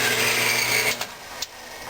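A 4x6 metal-cutting band saw cuts metal pieces to length, giving a steady mechanical whir for about a second before the cut ends and the sound drops off into faint residual hum and a small click.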